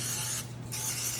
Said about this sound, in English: I'm gonna spray my tin.